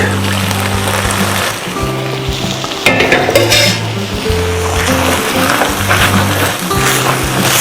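Stock is poured into simmering risotto rice in a pan, giving a steady sizzle and bubbling throughout, with background music running underneath.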